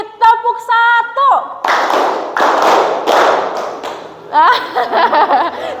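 A classroom of children clapping hands on a teacher's count, a few loud group claps in a ragged rhythm, with voices chanting before and after.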